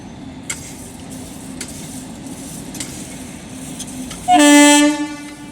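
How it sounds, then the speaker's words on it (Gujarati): Goods train arriving at Rajkot behind a WAG-9 electric locomotive: a steady low rumble of rolling wagons, then a loud, close horn blast near the end. "તો મિત્રો ગુડ્સ ટ્રેન આવી ગઈ છે"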